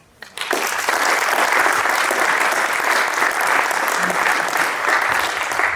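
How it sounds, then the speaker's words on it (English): A keynote audience at the Leica Summit in Switzerland bursts into applause for a speaker named Matt after a brief hush, then sustains a full, even round of clapping to the end. "So, please an applause for Matt."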